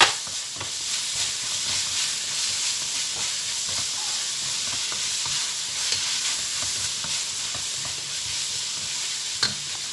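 Garlic frying in a pan with rendered pork fat for pork igado, a steady close sizzle and hiss with occasional stirring scrapes, no voices.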